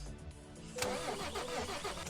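In the Euro Truck Simulator game, a truck engine cranks and tries to catch but fails to start, a loud mid-pitched churning with uneven pulses that begins abruptly after a short quiet lead-in.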